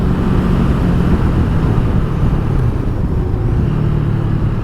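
A 2020 Honda Rebel CMX500 motorcycle accelerating, its engine a loud, steady broadband roar with a dense low rumble held close throughout, nearly swamped by heavy wind buffeting.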